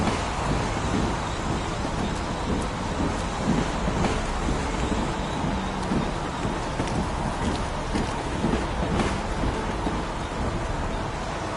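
Steady, dense rainfall hisses evenly throughout, with soft wind and scattered drop impacts on surfaces, no voices present.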